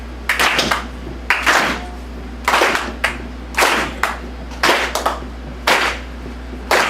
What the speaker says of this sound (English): So if I could get everyone to just do a rhythmic clap